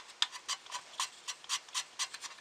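An eraser rubs back and forth over the tuner contacts of a 1960 Zenith Model C3009W remote television, making a quiet series of short scratchy strokes in an irregular rhythm.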